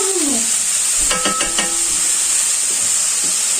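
Lardons sizzling in a pan, a bright steady hiss with a few clinks of utensils against the pan near the start.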